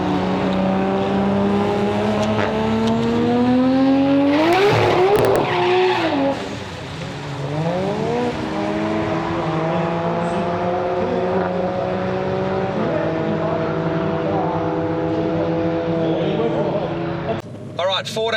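A Hyundai i30N accelerates hard with its tyres spinning and squealing on a cold night. The loud engine note rises and falls with shifts, and the tyre scrabble is close and forceful.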